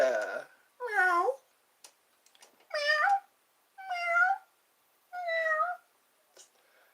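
A person imitates a cat, giving five or six clear, drawn-out meows in turn with short pauses between, close and fairly loud against a quiet background.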